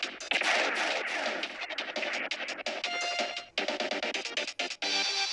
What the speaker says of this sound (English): I love those explosion animations